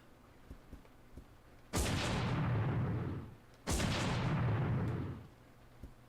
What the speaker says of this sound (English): A devastatingly powerful piece of weaponry that fires rockets.